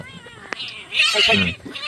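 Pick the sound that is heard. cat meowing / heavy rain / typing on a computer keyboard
cat meowing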